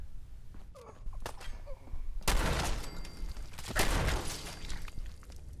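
Gunfire in Fallout 4, a handful of sharp loud shots and bursts ringing out amid quieter game ambience, with bigger cracks at about two and four seconds.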